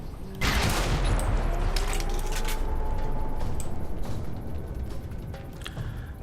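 A gunshot from the video game Alpha Protocol bursts in sharply and loud, followed by a dense, sustained rumble of gunfire and echoing reverberation that slowly fades over several seconds.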